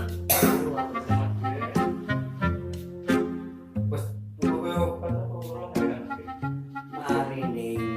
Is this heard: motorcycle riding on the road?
no